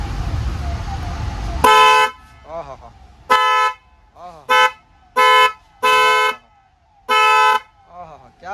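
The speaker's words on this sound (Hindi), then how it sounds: "तो हेला के हॉर्न की क्वालिटी भी चेक कर करते हैं हम कि कैसा बजेगा।" A Hella car horn is tested, sounding a series of loud, close honks of varying length, short toots and longer blasts, with someone speaking in between.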